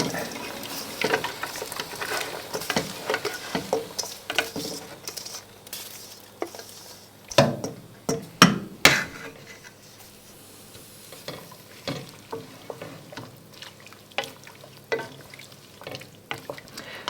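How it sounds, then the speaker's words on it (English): Leeks and carrot sizzle in a hot soup pot while being stirred, with scraping and clattering spoon strokes coming in bursts over a steady frying hiss. "Into that we're going to put our leeks and carrot"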